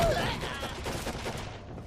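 Rapid gunfire rattles through a firefight in Condemned 2: Bloodshot, a dense, steady burst of shots lasting a couple of seconds with a faint voice underneath.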